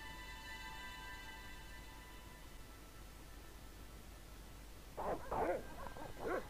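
Dogs barking in the PC point-and-click game Broken Sword: Shadow of the Templars, a few short yips and barks near the end after a steady background hum and fading tones.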